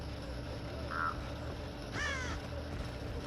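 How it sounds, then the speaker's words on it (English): Crows cawing inside the Dead by Daylight video game, a short harsh caw near one second followed by a louder burst of rapid caws around two seconds, over a steady ambient game drone. "I knew he was in there because I heard the crows."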